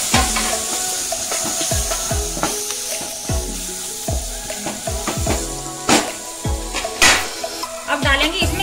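Chopped tomato and masala frying in oil in a pan for masala dosa, a steady sizzle punctuated by repeated spatula scrapes and taps against the pan, close and clear, no speech over it.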